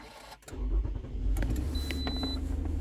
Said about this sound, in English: Let's go ahead and turn on the engine and go from there.